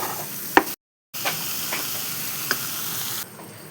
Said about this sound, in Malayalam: നല്ലോണം മിക്സ് ചെയ്തെടുക്കാം